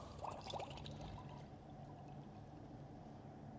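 Rinseless car-wash solution, about a litre, is scooped from a bucket: a few faint splashes come at the start, then a quiet liquid hiss continues.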